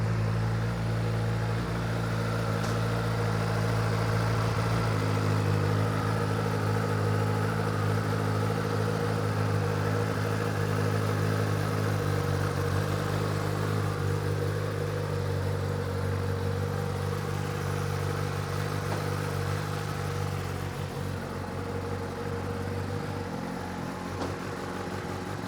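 A 2021 Kawasaki ZX-10R idles steadily and close by, a constant low mechanical hum with a slight whir that holds even for the whole stretch, with no voices over it.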